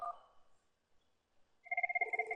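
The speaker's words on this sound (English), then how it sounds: "you can see here the other phone is ringing" A VoIP phone rings in a GNS3 network simulation. A brief electronic tone fades out, then after a pause a clean trilling ring pulses rapidly and steadily with no voices over it.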